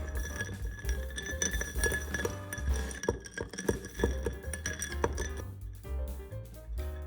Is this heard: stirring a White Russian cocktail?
yes